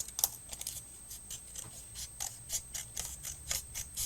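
Scissors snip through card for a lighthouse diorama in a quick run of sharp, close clicks with short pauses between cuts, heard alone in a quiet room.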